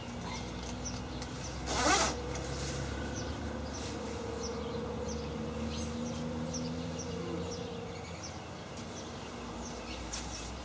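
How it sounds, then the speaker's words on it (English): A zipper on an emerald puffer coat is pulled up in one quick, close rasp early on, followed by quiet room ambience with faint, faraway chirping. "Zip it up."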